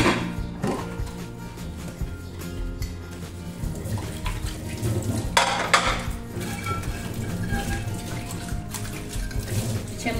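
Clean, non-greasy dishes being washed at a kitchen sink, with running water and repeated clinks and knocks of crockery and cutlery, close and continuous, no talking.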